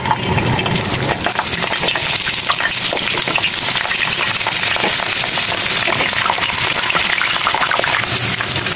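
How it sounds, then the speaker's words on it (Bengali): Boiled chicken balls deep-fry in a pot of hot oil, giving a loud, steady, dense sizzle and crackle with constant bubbling pops, uninterrupted throughout. "যে চিকেন বলগুলো সিদ্ধ হয়ে গেছে, এবার ডুবো তেলে ভেজে নেব।"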